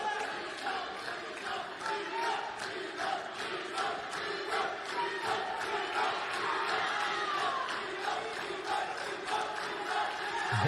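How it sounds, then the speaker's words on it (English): Iranian fans in the stands at a university karate championship cheer and chant steadily for their team, a dense, continuous crowd roar with rhythmic shouts running throughout. "Iranian fans in the stands giving us a treat here. They're cheering their team on."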